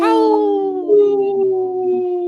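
A wolf gives one long, loud howl that starts high, slides gradually downward and holds a steady mournful tone with no other sounds around it.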